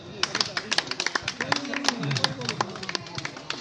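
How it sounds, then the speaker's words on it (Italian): An audience applauds at the presentation of the Victoria Cross's new season to the city of Ortona, in scattered, uneven claps. A voice talks over the applause. "a cui dedicherei subito un applauso"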